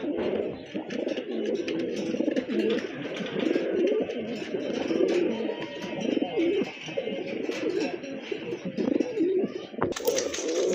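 A pair of Satin pigeons cooing, soft repeated coos rolling continuously at close range, with a brief sharp noise near the end.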